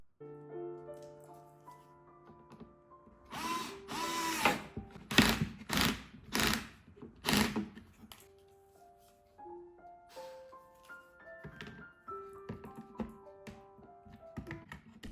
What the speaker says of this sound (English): Tightening the bolts.